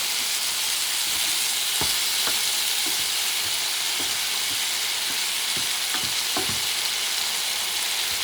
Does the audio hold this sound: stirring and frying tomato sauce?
yes